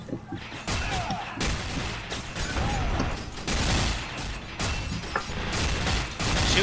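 Rapid bursts of automatic gunfire from the video game F.E.A.R. Online, in a subway map, loud and sustained with short gaps between volleys, mixed with mechanical clanks and some faint talk.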